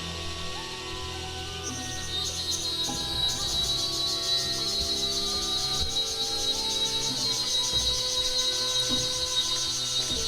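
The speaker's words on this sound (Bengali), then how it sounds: "এখানে অনেক ঝিঝি পোকার ডাক শুনতে পারতেছি," A steady, high chirring drone of crickets fills the air near a cave between large hills in Alikadam, Bandarban. It rises after a couple of seconds and holds continuously over faint background rumble.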